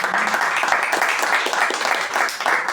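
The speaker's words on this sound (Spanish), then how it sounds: "Eugenia Fernández, un aplauso" An audience at a Paraguayan book launch claps steadily for a short burst, a busy wash of hands at moderate loudness.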